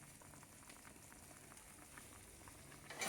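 Keema koftas simmering in a tomato and gourd curry, a soft steady bubbling and faint crackle of boiling gravy in a pot, quiet and continuous, ending in a brief louder rustle.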